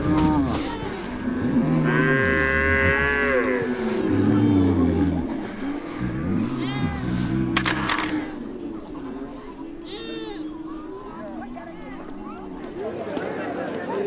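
Samburu cattle gathered at the Lemuget ceremony give off lowing and bleat-like calls, mixed with a continuous bed of voices and crowd noise, with a louder drawn-out call early on.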